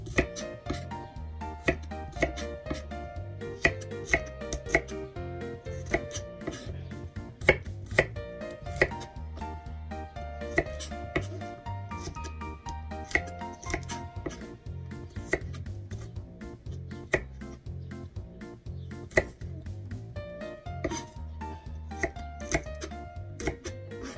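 Knife on a cutting board mincing garlic for daing, dried fish, with a steady run of quick, close, crisp chops and no talking.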